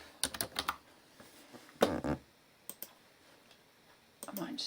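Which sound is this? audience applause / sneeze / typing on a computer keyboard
typing on a computer keyboard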